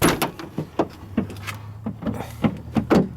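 Rear barn doors on a 1999 GMC Yukon SLT V8 SUV are worked, giving a quick run of sharp latch clicks, clunks and thuds up close, with no talking.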